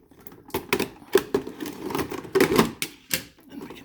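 Plastic blister packaging around a Yae Sakura Chinese-dress anime figure being cut open, a run of sharp snipping and crackling clicks in irregular bursts, close and fairly loud, with no talking.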